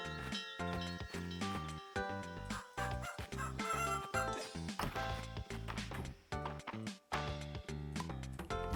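Chickens clucking in the farming video game Fields of Mistria, short bird calls set against busy, chiming in-game background music.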